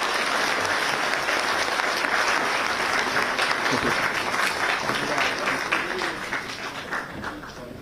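A conference audience at a civil aviation summit applauds after a minister's speech, a steady wash of many hands clapping at full strength that eases slightly toward the end, with some talk faintly mixed in.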